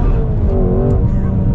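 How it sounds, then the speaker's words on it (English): A Shelby GT350 sports car accelerating on a road, its engine note loud and close, a dense rumbling roar that climbs slightly over a brief stretch. "we're gonna kind of get a little bit of an acceleration here in the GT350"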